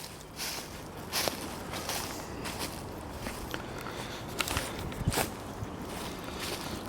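Footsteps crunch and shuffle over slippery pine straw outdoors, a quiet irregular series of soft crackling steps.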